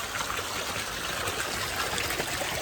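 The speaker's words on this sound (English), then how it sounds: "how the water is flowing out." Rainwater pours out of an aquaponics grow bed into a pond, a steady, close, continuous rush and trickle of flowing water with no break.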